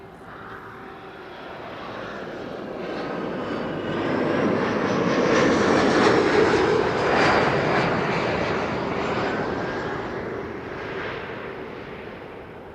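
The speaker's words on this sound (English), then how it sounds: "That was KLM flight 1174, arriving from Stavanger." KLM airliner on flight 1174 arriving at Amsterdam Schiphol Airport, a loud engine roar swelling as it passes overhead, peaking midway and then slowly fading.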